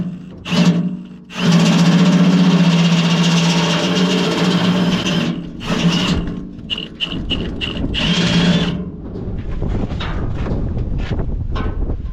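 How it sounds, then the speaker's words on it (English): A power drill with a step drill bit whines loudly in several bursts, biting through metal with grinding and stuttering, separated by short pauses and lighter clicks. "Best part about step drill, it leaves a nice chamfer on the hole."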